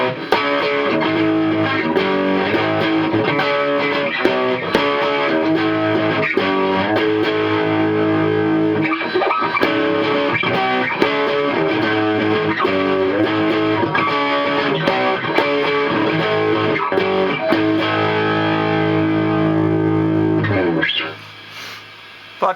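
An electric guitar played through a Gollmer Fat Dist distortion pedal, thick fuzzy chords and riffs ringing continuously for about twenty seconds before a brief pause, loud and close.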